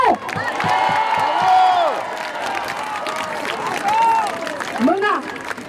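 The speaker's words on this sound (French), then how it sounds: "vous applaudissez très très fort également Philippe Torreton" A crowd at a Paris rally for the release of hostages held by Hamas applauds, cheers and whoops loudly, with shouted voices and calls rising over the clapping across the whole stretch.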